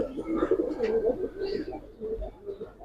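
Giribaz pigeons coo steadily inside a loft, a close, continuous low warble of overlapping calls with no talk.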